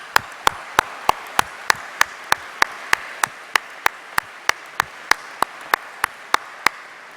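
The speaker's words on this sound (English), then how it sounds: "let's give a massive round of applause for all the staff at Edinburgh Napier University" Applause at a university graduation ceremony in Edinburgh, led by one close, crisp clapper striking in a steady, evenly spaced rhythm over a softer wash of crowd clapping.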